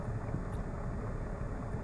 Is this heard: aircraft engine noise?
yes